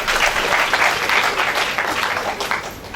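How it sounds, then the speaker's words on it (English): Audience at a community event on drug abuse and social vices giving a round of applause, dense steady clapping throughout, fairly loud and close. "Please give him a round of applause, please."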